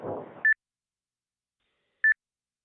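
Two short electronic beeps from an Icom IC-9700 amateur radio transceiver, about a second and a half apart, both clear and loud. A brief low murmur comes just before the first beep, and silence follows each one.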